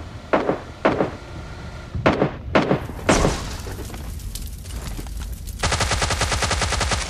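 Gunfire from a recoiling gun in the mobile shooter PUBG Mobile Lite: several sharp separate shots, then a rapid, steady automatic burst near the end, loud and close with little talk.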